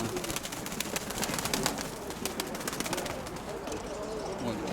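Pigeons coo steadily through a busy, noisy background at a pigeon fair in Dnipro, their low calls repeating close by amid rustling and other bird sounds.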